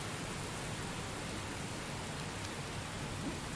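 Rain in the Heavy Rain video game, a steady, even hiss of falling rain, faint and continuous with no voices.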